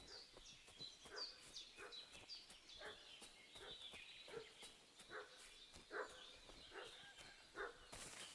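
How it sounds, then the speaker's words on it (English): A dog in the Kingdom Come Deliverance II game barks repeatedly in short, agitated bursts, steady and fairly faint over soft background ambience. "What's that dog making such a fuss about?"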